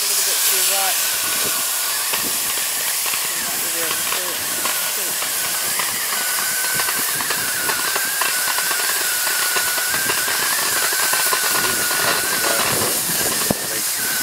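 Oxy-acetylene torch cutting through a steel rail track, a loud continuous roaring hiss with a faint whistling tone, sharp crackles and pops near the end, and people talking in the background.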